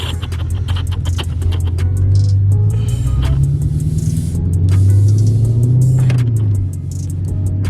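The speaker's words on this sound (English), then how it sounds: "But I'm gonna put it in gear. And we just gonna drive a little bit" A BMW 650i with a Stage 2 tune pulling away, its engine rumbling close and loud as revs rise and fall in low drive, with some light interior clicks and rattles, no talking.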